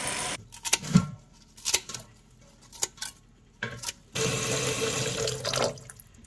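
Tap water runs into a kitchen sink while dandelions are rinsed, in short irregular splashing bursts with brief pauses, ending in a steadier continuous flow; fairly quiet and close, with no talk.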